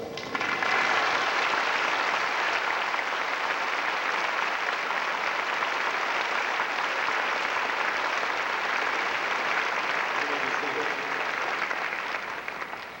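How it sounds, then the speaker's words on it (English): Sustained applause from a large graduation ceremony audience for the standing Jefferson High School faculty, a dense, steady wash of many hands clapping at even loudness for about twelve seconds before tapering slightly at the end. "all of the Jefferson teachers, please stand and receive your applause"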